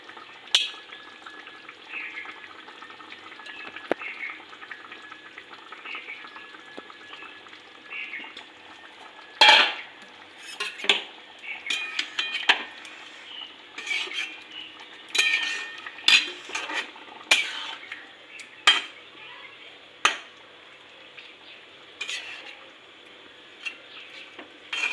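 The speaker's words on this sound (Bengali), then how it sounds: "সবজিগুলো সব সেদ্ধ হয়ে গেছে, এবার মাছগুলো ছেড়ে দিলাম" Hilsa fish pieces go into a simmering curry of eggplant, potato and pumpkin. Utensils clatter and scrape against the pot in irregular bursts over a soft, continuous bubbling and frying hiss.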